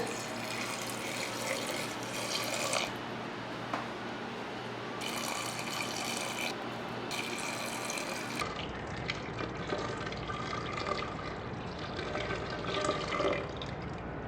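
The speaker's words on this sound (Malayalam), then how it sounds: "ഒന്നേ മുക്കാൽ കപ്പ് വെള്ളം ഒഴിക്കുകയാണ്" Water pours and splashes into a cooking pot of dal curry in a steady stream, fairly close and quiet, with the flow changing partway through.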